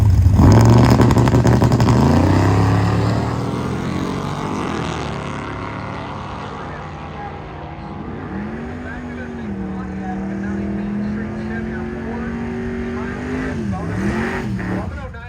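Drag racing cars at Cordova Dragway, a Mustang and a 1948 Pontiac Torpedo, roar loudly at first and then fade, followed by a single engine revving and holding in long rising pulls, with an announcer talking over it.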